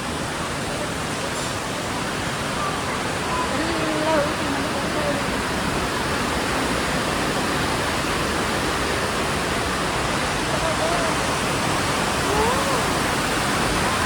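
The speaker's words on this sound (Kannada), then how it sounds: "ಮಳೆ ನೋಡಲ್ಲಿ" Heavy rain roars at Kateel Durga Parameshwari Temple in a steady, dense hiss that fills the whole stretch without letting up.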